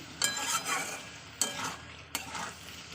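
Masala with chicken and cabbage frying in a pan, a soft sizzle broken by three sharp scraping stirs of a spoon against the pan, fairly close and quiet.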